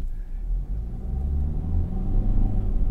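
A 2021 Kia Rio hatchback with a 1.6 liter inline four accelerating: a low, steady engine rumble and road noise from inside the cabin, rising gradually in pitch and loudness as it pulls.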